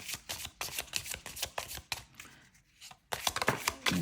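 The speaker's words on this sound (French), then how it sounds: "Je mélange." A deck of oracle cards is riffled and shuffled close up, quick papery bursts in rapid succession with a short pause before another round of shuffling.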